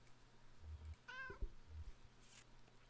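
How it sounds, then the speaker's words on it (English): A cat meows once in the video game Kentucky Route Zero, a short rising-falling greeting call heard clearly over low hum and faint background tones. "Greeting meow."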